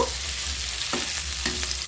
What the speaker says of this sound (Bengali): আর ওই তেলের মধ্যেই আমি আলুগুলোকেও ভেজে নেবো